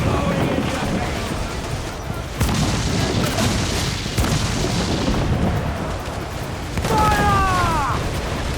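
Ship cannons fire in Assassin's Creed 4 Black Flag as heavy booms roll out over a dense battle din of rumble and water. Shouted voices break in near the end.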